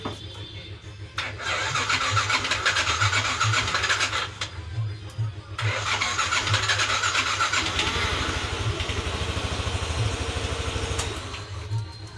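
A Yamaha NMAX 165cc scooter engine with a 60mm piston, hard to start, cranks repeatedly in two or three long bursts before catching, then runs unevenly with a ragged, sputtering idle, heard up close.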